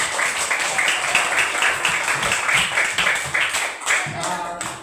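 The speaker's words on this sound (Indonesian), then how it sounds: "Tepuk tangan." A class claps hands in a steady, moderately loud burst of overlapping claps that tapers toward the end, with some voices audible underneath.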